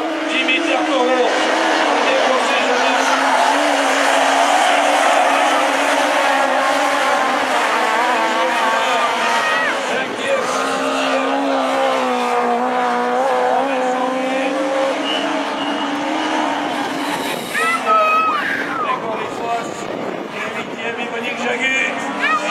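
Rallycross race cars, Citroen C2s, Renault Twingos and a Peugeot, roar around the track at a finale event, engines loud and continuous with tire noise, while a commentator talks over them throughout.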